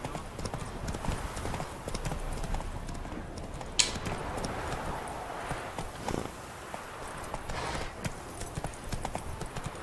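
Roach the horse clip-clops steadily through the Witcher 3 game world, hooves thudding in an even walking rhythm under a low rumble of ambient sound.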